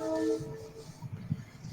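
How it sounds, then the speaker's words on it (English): A distant train whistle or similar horn sounds briefly as a faint, steady tone over low rumbling background noise, fading after about a third of a second. "That's the train whistle or some kind of whistle."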